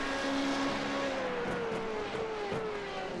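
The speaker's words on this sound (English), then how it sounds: "You can hear the rear end slightly spinning up there for a moment" Formula Renault 3.5 race car at Hockenheim braking hard with brief rear wheelspin, a loud high engine whine falling in pitch under braking, with short bursts as the rear end spins up.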